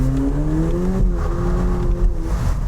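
VW Polo GTI engine heard from outside the car while driving: a loud, close, continuous drone whose pitch rises slightly and steadily, with no talking.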